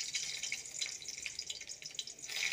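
Whole garlic cloves sizzle in hot mustard oil, a steady bright frying hiss with scattered small crackles, close and continuous with no talking.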